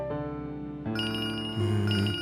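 A phone plays a melodic electronic ringtone for an incoming call, with bright repeating tones shifting pitch in a few phrases, clear and continuous.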